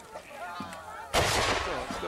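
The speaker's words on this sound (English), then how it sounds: "One last salvo from the guns crashing out to give them support there." Cannon firing at a historical battle reenactment of British and French forces: after a soft rumbling lead-in, one loud booming blast bursts out and rolls on with a long echoing tail, heard at a distance outdoors.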